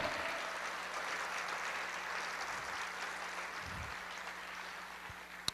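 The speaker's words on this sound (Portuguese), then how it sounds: "Aleluia, pode aplaudir." A church congregation applauds during a Portuguese-language service, a steady, even wash of clapping that holds at moderate level for several seconds and carries no speech.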